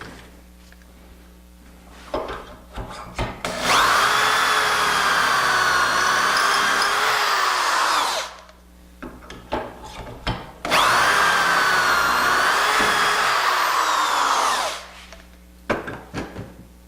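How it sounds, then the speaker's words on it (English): A power drill bores dowel holes into wood for a mitered front rail joint, two long loud whirring runs each lasting about four seconds, separated by clicks and handling knocks. "And again we drill 1 and 2."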